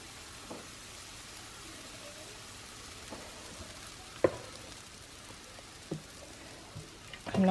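Pancake batter sizzles softly on a hot skillet, a faint steady hiss with a few small pops and clicks.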